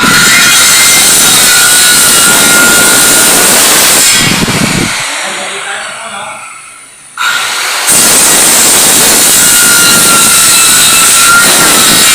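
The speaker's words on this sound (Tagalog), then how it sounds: "Tapos putulin po natin gamit yung circular saw." A solar-powered circular saw cuts through wood with a loud, sustained whine that briefly drops away as the blade slows, then picks up again at full speed.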